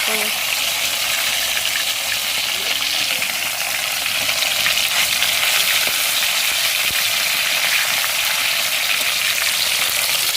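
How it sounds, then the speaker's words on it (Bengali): Rohu and tilapia fish fry in hot oil with turmeric, a loud continuous crackling sizzle that stays close and steady throughout, with faint background sounds mixed in. "আর তেলটাও গরম হয়ে গেছে, আগে মাছগুলো ভেজে নিই"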